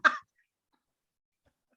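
A single short, sharp sneeze close by, a quick burst that ends abruptly and leaves near silence after it.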